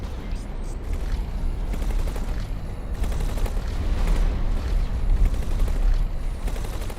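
Missiles launching and detonating in the space game X4 Foundations, a dense, continuous barrage of booming blasts and rumbling impacts that holds steady and loud throughout without pause.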